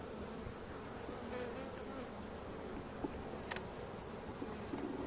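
A dense, steady buzzing of many honeybees in a hive fills the air, a continuous droning hum with no voices.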